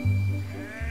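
A sheep lets out a single close bleat, strong and wavering, then a brief second call starts as the first trails off.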